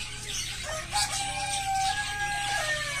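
Backyard chickens in a coop, rooster and hen, giving drawn-out crowing and clucking calls across a few seconds over a steady low background hum.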